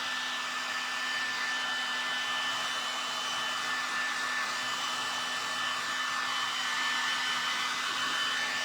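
A handheld hair dryer blows over a freshly varnished craft surface that will take rub-on transfers, producing a steady, close, unbroken whirring roar with no talk.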